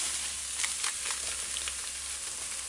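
Soy mince sizzles steadily in a hot pan on a medium-high stove with a tablespoon of soy sauce just added, giving a close, even hiss with small crackling pops throughout.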